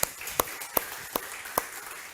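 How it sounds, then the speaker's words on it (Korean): Worshippers at a Sunday afternoon church service clap in unison. Five crisp, evenly spaced claps sound at a moderate volume over a soft room hum, with no talking. "영광의 박수 한번 쳐드립니다"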